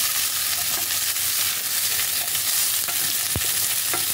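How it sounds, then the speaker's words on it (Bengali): Vegetables including ridge gourd sauté in hot oil while being stirred, a loud bright steady sizzle with scraping and a sharp utensil clink near the end, close up and without talk. "এই সমস্ত সবজিগুলোকেও আমি আরেকবার ভালো করে তেলের মধ্যে সাঁতলে নেব।"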